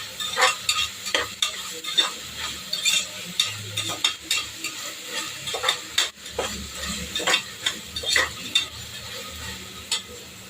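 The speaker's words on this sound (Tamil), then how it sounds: "வெங்காயம் தக்காளி நல்லா வதக்கணும்." Onions and tomatoes sauté in a pan for khushka rice, with a steady sizzle under frequent rhythmic scrapes and clacks of a spatula stirring against the metal, heard up close over about ten seconds.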